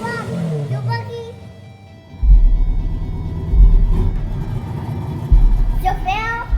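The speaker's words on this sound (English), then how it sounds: "Start your engine." A car engine fires up and revs in repeated loud, rumbling bursts close by, with children and adults talking over it at a car show.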